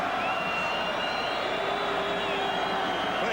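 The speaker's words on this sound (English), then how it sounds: "Plenty of crowd support." A large stadium crowd at a 1992 rugby league Test between the Kangaroos and Great Britain at Lang Park, Brisbane, roars in a steady, distant wash of noise, with a commentator's voice running over it.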